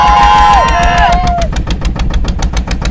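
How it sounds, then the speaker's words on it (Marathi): Small wooden boat engine starting on the Konkan coast: a loud, rising sputter that settles into a fast, even idle beat of repeated thuds. "तर आपल्या बोटीला स्टार्ट मारून ना आता आपण चाललो हाजी मिस्कीला"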